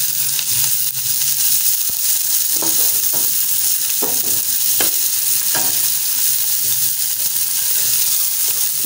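Chopped garlic and ginger fry in a pan with a steady loud sizzle. Scattered scrapes and clinks from stirring come through it, and no one speaks.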